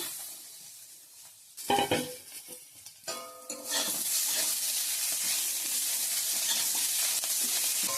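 Beans and potatoes frying in a pan and being stirred, with a quiet lead-in, then scraping stir strokes and a loud, steady sizzle and hiss that keeps going close by.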